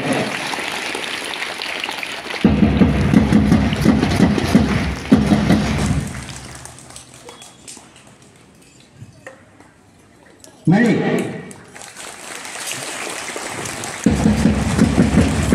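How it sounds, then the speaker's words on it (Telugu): Schoolchildren at a residential school event clap loudly in dense bursts of applause, stopping for quieter spoken stretches in between, then resuming strongly; a voice speaks briefly. "మీరందరూ చప్పట్లు కొట్టారు"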